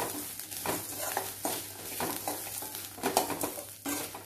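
Dried red chillies and curry leaves roasting in a pan for kulambu, giving a soft sizzle and several scraping stirs against the pan, close by with no talking.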